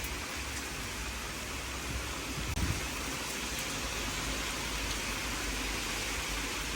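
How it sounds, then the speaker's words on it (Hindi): Heavy rain falls on a London day, a dense, steady hiss of drops on surfaces with one brief louder knock partway through. "मुझे बारिश की आवाज़ सुनाई दी"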